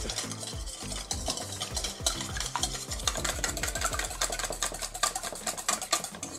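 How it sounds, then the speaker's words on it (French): A utensil stirs an egg mixture in a bowl while cooking in a camper van, a fast rhythmic scraping and clicking that runs continuously and close, with no talking. "Après, on mélange."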